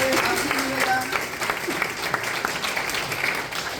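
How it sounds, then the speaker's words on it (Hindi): Audience applause at an inspirational success talk, a dense, sustained burst of clapping from a crowd lasting a few seconds. "एक जोरदार ताली फिर से आप लोगों के लिए मिलेगा।"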